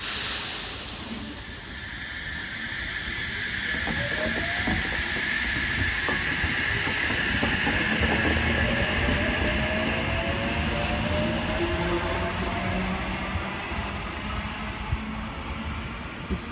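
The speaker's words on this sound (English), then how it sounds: "H2 and H23 now departing platform number 1, Central City Terminal Service." A Sydney regional train runs steadily along the rails near Cockle Creek, with a continuous loud rumble, hiss and rhythmic wheel noise and a long high squeal, no voices.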